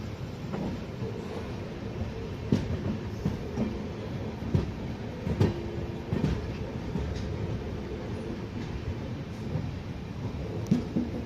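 The West Coast Express train from Mangaluru Central to Chennai rumbles steadily along the tracks at night, with rhythmic clacks and occasional metallic clicks over a constant low roar.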